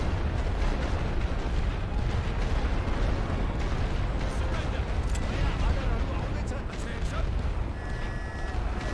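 Grenade blasts and battlefield rumble in the World War I strategy game The Great War: Western Front, with Gurkha troops fighting, forming a dense, continuous roar of explosions and distant gunfire with no clear pauses.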